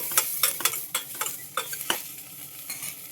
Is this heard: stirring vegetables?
yes